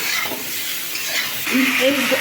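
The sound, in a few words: vegetables (data stems, yardlong beans) being stirred in pan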